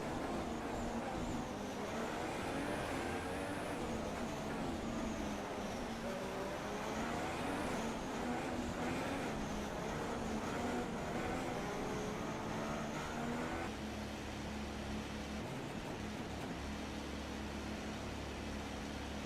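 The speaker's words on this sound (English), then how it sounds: "go through all the gears if you can" An F1 car engine in the F1 2016 video game runs continuously through a long stretch, a steady dense drone with shifting pitch as it moves through the gears.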